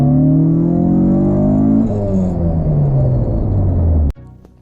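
Car engine revving hard, pitch climbing steadily then dropping after a gear change before rising again, loud and close, cutting off abruptly near the end.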